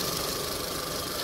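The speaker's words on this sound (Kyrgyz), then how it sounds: "Мотордун иштештери дагы тынч" Idling quietly, a Mitsubishi car engine gives a smooth continuous drone with light vibration and a faint ticking, steady in level throughout with no voices.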